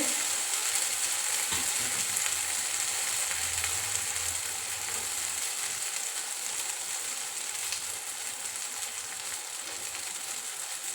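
Ground paste added to a hot pan of potato and vegetable curry, giving a steady, even sizzle with no pauses and faint scraping beneath it.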